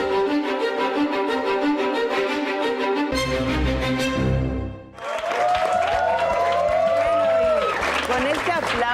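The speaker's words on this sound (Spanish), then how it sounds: "Con este aplauso le damos la gran bienvenida a Narciso Campos" Studio audience applause greets a guest on a Spanish-language TV finance show, a short burst of clapping rising between stretches of loud music.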